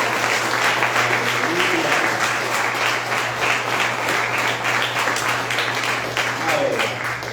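Sustained applause from a large church congregation, steady and loud throughout, with a low hum beneath it.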